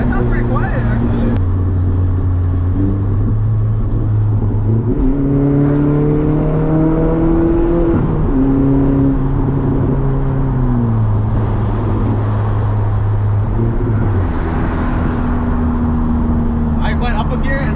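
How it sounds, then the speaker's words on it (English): A Volkswagen MK4 GTI 20th Anniversary Edition engine with a 3-inch catless downpipe revs up and drops through gear changes, loud and close, with its rising and falling drone dominating the cabin. "I revved that up to go up a gear."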